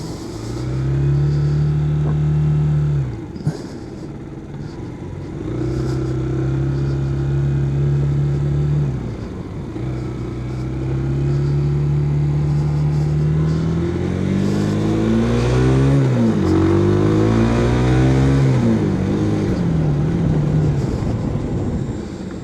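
Road traffic heard from a bike: a steady, loud low engine drone. A passing vehicle's pitch swoops up and down near the middle before settling back into the rumble. No one talks.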